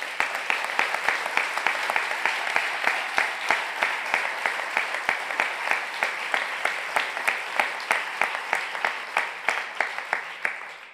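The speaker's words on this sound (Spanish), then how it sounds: "Des d'aquí els vull demanar l'aplaudiment vostre perquè ells també haurien d'estar aquí." An audience at the closing ceremony of the 23rd FICMA festival applauds, a dense, steady clapping sustained for about ten seconds with some rhythmic, evenly paced claps standing out.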